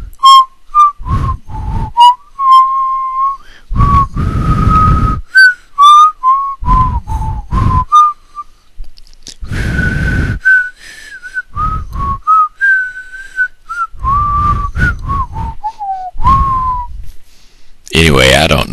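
A man whistles a tune straight into a microphone, a close and loud melody of clear sustained notes and short slides broken by frequent breaths and pauses, ending on a brief burst of noise.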